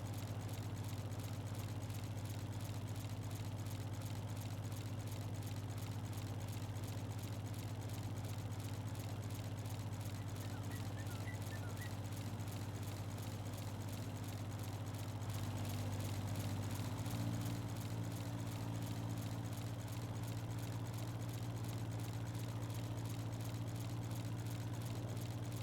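Tractor engine idling and running steadily while mowing grass around a hay loft on a farm, a constant low rumble with a slight shift in tone partway through, fairly close and continuous with no talk.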